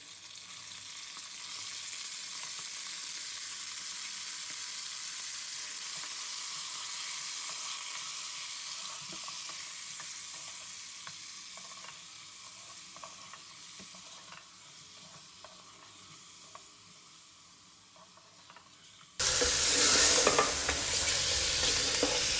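Chicken pieces sizzle steadily in hot oil for a chicken white karahi, a dense crackling frying sound with stirring scrapes, closer and louder near the end, and no talking.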